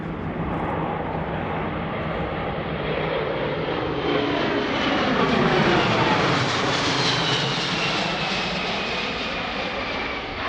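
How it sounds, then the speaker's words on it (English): A C-17 Globemaster III military jet transport flies overhead at an air show demonstration, its engines a loud, continuous roar that rises and shifts in pitch as the aircraft passes, with no voices. "Here comes from Altus Air Force Base, the C-17 Globemaster III."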